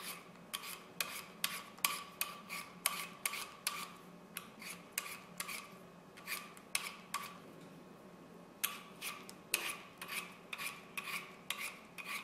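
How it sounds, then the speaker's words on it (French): Bintje potatoes being peeled with a vegetable peeler, a quiet series of quick, rhythmic scraping strokes in short runs with brief pauses, close and soft. "on va commencer par les peler."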